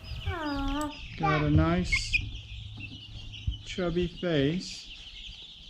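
Young Cornish Cross and Buff Orpington chicks, about four weeks old, chirp and cluck in rising, rapid bursts, close by, while someone talks over them.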